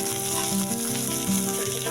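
Onion, peas and capsicum frying in a pan for a homemade club sandwich filling, a continuous close sizzle with a faint low hum underneath and no speech.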